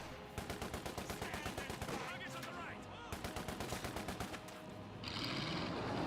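Bursts of MG42 machine-gun fire ring out in a Company of Heroes 2 battle, rapid rattling volleys in several strings amid other game combat noise, loud and close.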